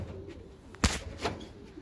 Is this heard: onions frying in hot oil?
no